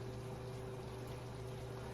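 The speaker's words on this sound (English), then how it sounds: "All right, the water is bubbling now." Water bubbles in a pot on a stove, a quiet, steady simmering wash with a faint constant hum behind it.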